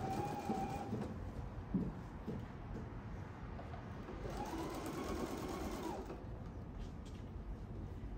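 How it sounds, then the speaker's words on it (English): A sewing machine runs steadily, stitching a fabric box pouch closed across its turning gap, with a continuous close mechanical whir that holds even for several seconds. "I'm going to be doing riveted, so that's why I'm closing up my gap now"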